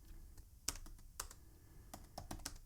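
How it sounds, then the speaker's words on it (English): Keys tapped on a computer keyboard while text is entered into a WordPress page, a handful of quiet, irregular clicks spread over a few seconds with faint room noise between them and no talk. "I'm just going to type in some text."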